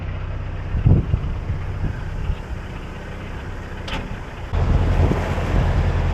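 Wind blows steadily against a sailboat, rushing and buffeting the microphone with a low roar and a few knocks. It grows louder and rougher in the last second or two.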